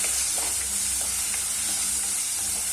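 Curry leaves and rock salt sautéing in a pan for a vendakkai sambar, a steady close hiss of frying oil with occasional light stirring scrapes throughout, no voices.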